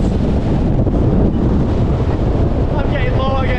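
Gale-force wind gusts roar across an exposed fell in the Langdales of the Lake District, a steady loud buffeting rush against the microphone that ends with a brief voice.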